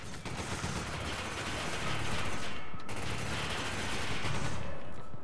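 Rapid enemy gunfire in Resident Evil 5 crackles in a dense, sustained fusillade, with short breaks between bursts.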